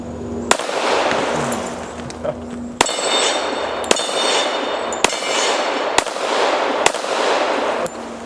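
.45 pistol shots at an outdoor range: six sharp, loud single reports spaced roughly a second apart, each ringing out briefly over a steady background rumble.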